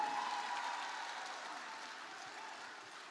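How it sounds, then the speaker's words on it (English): A crowd at a charity dinner for Tonga relief applauds after an auction item sells, producing a full, steady wash of clapping that slowly fades over about three seconds. "Let's give them another round of applause for their bidding tonight."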